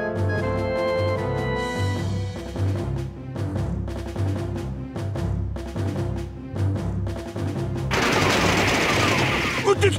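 Rapid machine-gun bursts from the PS2 game Demonbane, rattling alongside a busy music track and game voices, then a dense burst of heavier gunfire and noise near the end.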